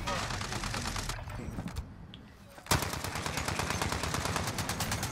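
Automatic weapon fire rattles in rapid, loud bursts during a Warzone match, with a brief lull in the middle before another sustained burst, while players talk over the shooting.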